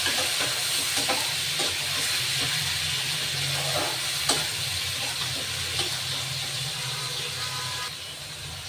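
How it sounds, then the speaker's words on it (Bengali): Onions fry in hot oil in a pan with garlic paste, a continuous loud hiss and sizzle with occasional clinks of stirring, heard close and alone. "পেঁয়াজ ভাজা হয়ে গেছে"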